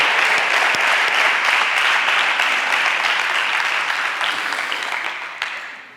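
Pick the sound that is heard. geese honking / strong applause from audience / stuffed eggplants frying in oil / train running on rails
strong applause from audience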